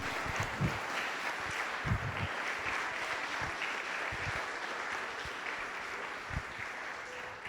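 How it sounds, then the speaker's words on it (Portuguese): A church congregation applauds during a Sunday celebration service, a steady wash of clapping at moderate distance with a few louder low thumps scattered through, continuing evenly without pause. "Você pode aplaudir Jesus?"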